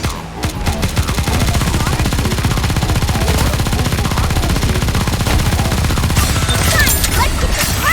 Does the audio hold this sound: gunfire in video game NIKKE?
yes